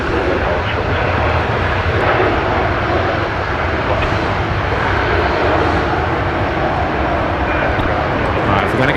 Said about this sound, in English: Air New Zealand coming in now.